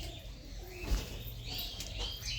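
Pigeons released from a loft, soft coos and chirps with faint rustle of movement in a quiet outdoor setting, no voices.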